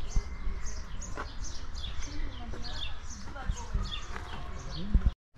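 Birds calling at a wildlife park in Izmir, Turkey, with repeated chirps and tweets scattered across the clip over a rumbling outdoor background, fairly faint and distant.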